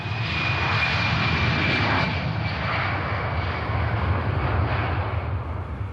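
Qantas jet airliner in flight, a steady broad cabin roar of engines, constant and even throughout with a faint high tone layered in, no voices.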